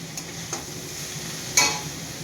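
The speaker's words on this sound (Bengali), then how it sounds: "এখানে তোমার আলু পেঁয়াজ করি ভাজা চলছে" Potatoes and onions frying in oil in a home kitchen, a steady soft sizzle with a few light stirring clicks and one brief louder scrape near the end.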